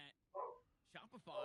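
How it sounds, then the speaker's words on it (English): A dog barks a few short, sharp times in the background, faint and spaced apart with quiet gaps between them. "dog barking in the background."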